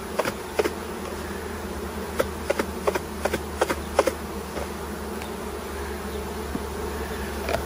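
A steady, low hum of many honey bees buzzing inside a container with stainless steel mesh during a sugar shake mite test, with occasional small clicks and taps over the drone.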